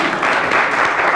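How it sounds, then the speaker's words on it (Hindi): A brief, dense burst of audience applause at a ghazal gathering on a TV talk show, loud and close, with no voices over it. "तालियां बजाइए प्लीज"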